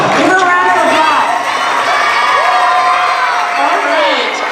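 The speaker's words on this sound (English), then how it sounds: "Give her a round of applause." Loud audience cheering, whooping and applause for a guest welcomed onstage at a school testing kickoff event, a dense continuous roar of crowd voices with children's shouts rising throughout.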